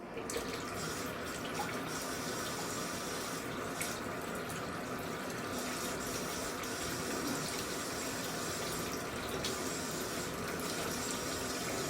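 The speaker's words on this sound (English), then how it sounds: "I might need a little more hot water here." Hot water runs steadily from a tap into a sink for a DIY salt-dye batch, a constant broadband rushing with no pauses, close and moderately loud throughout.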